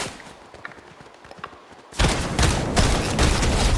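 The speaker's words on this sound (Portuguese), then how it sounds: "tá vindo bala de tudo quanto é canto" Heavy gunfire erupts in a shooter video game, a dense continuous barrage of loud shots and impacts starting abruptly after a quieter stretch of faint clicks and distant pops.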